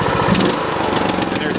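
Craftsman T110 lawn tractor engine running steadily at low speed, a loud, close, even mechanical drone with a rapid putter throughout.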